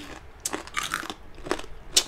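Crispy pork chicharon bagnet bitten at close range, several sharp crunches and crackles spread across a couple of seconds with quiet gaps between them, and no voices.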